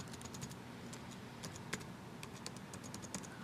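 Quiet, rapid key clicks from a computer keyboard as a password is typed, in irregular bursts of taps with a few brief pauses.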